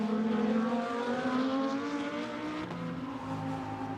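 An Audi GT2 race car at Monza roars past, its engine note climbing and holding strongly before easing off, loud and close, with no other sound over it.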